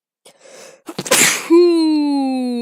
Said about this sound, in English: I am sorry. I sneezed.